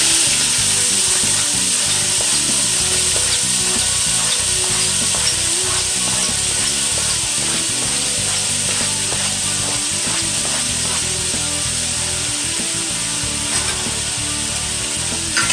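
Vegetables fry for a homemade tomato chutney, a loud, unbroken crackling sizzle with a steady high hiss and scattered pops, no voices.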